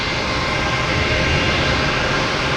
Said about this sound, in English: Here's that loud plane sat here, made all the noise.